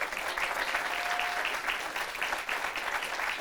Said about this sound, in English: can you guys please give them a round of applause?